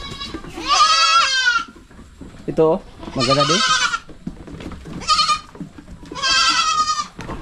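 A hungry goat kid, the underfed offspring of a doe named Dayan, cries with loud, repeated wavering bleats, alongside other farm goats. The calls come in four distinct bursts with short gaps, and a person talks briefly between them.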